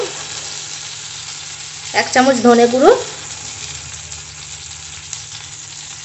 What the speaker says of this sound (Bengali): ভালো করে তেলে ভাজা ভাজা করে নেবো যাতে কাঁচা গন্ধটা চলে যায়।